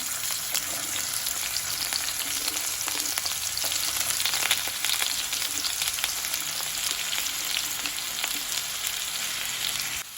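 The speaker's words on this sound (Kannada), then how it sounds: "ಈಗ ಎಣ್ಣೆ ಕಾಯ್ತಿದ್ದಾಗೆ ಆಲೂಗಡ್ಡೆಯನ್ನು ಎಣ್ಣೆಯಲ್ಲಿ ಹಾಕಿ ಶಾಲೋ ಫ್ರೈ ಮಾಡ್ಕೊಳ್ತೇನೆ." Potatoes shallow fry in hot oil, giving a steady, close, hissing sizzle with crackles and pops that holds even throughout, with no talk.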